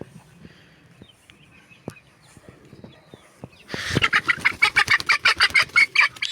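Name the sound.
hen clucking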